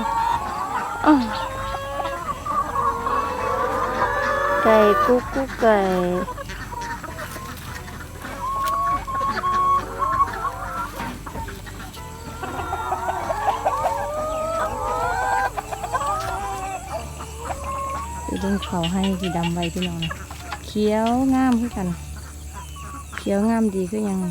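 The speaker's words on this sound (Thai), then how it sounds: "ไก่ก็ยังเยอะเหมือนเดิม" A crowd of chickens clucks steadily at a rural garden home in Thailand, busy overlapping clucks and squawks nearby, with someone talking among them.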